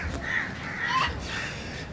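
Crows gathered to be fed in Mombasa give a few harsh caws in a brief burst, close and clear over a faint outdoor background.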